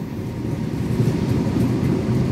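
A continuous low rumble of the Bima executive train pulling into track 4 at Jatinegara station, heavy and even across the short stretch, with no voices.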